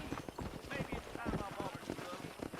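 Horse hooves clip-clop at a steady rhythm in the Xbox 360 game Red Dead Redemption, quiet and fairly close, while a voice talks over the footfalls.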